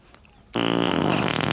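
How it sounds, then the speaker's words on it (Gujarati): A long, loud, sustained buzzing fart bursts out suddenly after a quiet start and keeps going to the end, close and alone in a Gujarati comedy sketch about a man with stomach trouble. "આ પેલા તો પાદવાન બંધ કર."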